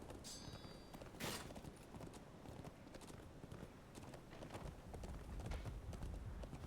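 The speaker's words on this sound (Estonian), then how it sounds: "Hobused tulevad." Horses gallop in the medieval combat game Chivalry 2, a rapid clip-clop of hooves passing amid battlefield clatter and ambient noise, with a sharp clash near the start.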